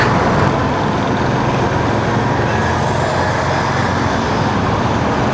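Road traffic on a morning commute to the office in Bengaluru, a constant loud wash of engines and road noise with no gaps and no talk.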